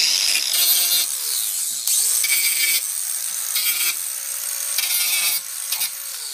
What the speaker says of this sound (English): You want to scratch it up a little bit.